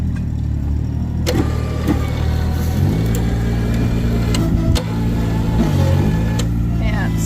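A truck's engine revs in steady sustained bursts while it strains to pull a stuck skid steer, the low drone continuous and loud throughout, with a few sharp clanks and a person talking in the background.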